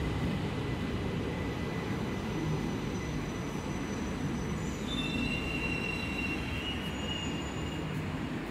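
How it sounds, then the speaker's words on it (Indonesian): An LRT train pulls into platform 3 at a station on a trip from Bandung to Depok, with a steady loud rolling rumble and drawn-out high wheel squeals rising near the end, close by and without talk. "Pas banget kita masuk jalur 3, LRT-nya juga masuk nih."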